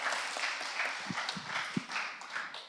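Applause in a church family worship service welcoming a member, heard as a steady wash of many hands clapping, fairly faint and diffuse, with a few louder thumps scattered through it.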